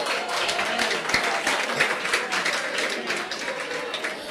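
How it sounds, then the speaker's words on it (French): A workshop audience breaks into applause, dense and close, its sustained clapping continuing for several seconds with a voice speaking through it. "N'applaudissez pas, moi j'aurais pas applaudi."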